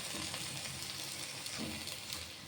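Fish roe being fried with spices and potatoes in a pan for a Bengali fish-egg curry, giving a steady, close sizzle with faint stirring scrapes throughout and no voices.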